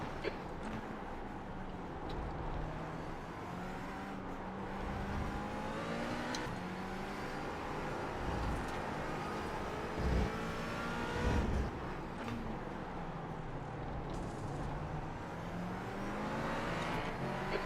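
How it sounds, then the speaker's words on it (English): Race cars in a racing video game whine and rev steadily as they accelerate, with engine pitch rising and falling as faster cars pass, held at a constant loud level throughout. "There's a faster class car approaching."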